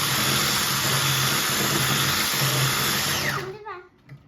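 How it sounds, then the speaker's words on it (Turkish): Electric mixer whisking chocolate cake batter, a loud steady whirring drone that cuts off near the end; voices talk under and after it. "çırpıcıyla karıştıracağız"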